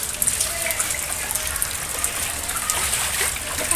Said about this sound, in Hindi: अभी बारिश ना बंद नहीं हुई है, बहुत तेज आ रही है